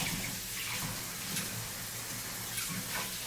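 Running tap water pours steadily into a kitchen sink while dishes are rinsed, a continuous broadband splashing at moderate level with faint clinks and no talk.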